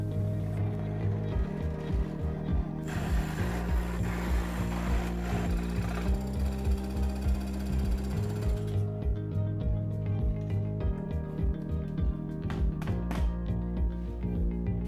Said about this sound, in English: I cut the outside shape on the bandsaw and the small inside stripes on the scroll saw.